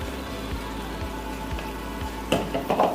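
Shrimp sizzle in a hot frying pan for taco filling, a steady broadband crackle with soft periodic low thumps and a few louder clatters near the end.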